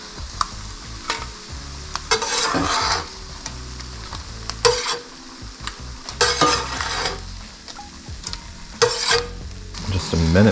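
Spam and plant-based eggs fry in a pan with a steady sizzle, broken by bursts of stirring and scraping at irregular intervals, close and fairly loud with no voices.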